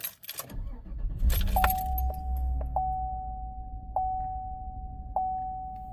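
Keys jangle up close, then a Chevrolet Silverado 5.3 V8 truck with a rough-running misfire cranks and starts. A steady idle follows while a chime dings several times.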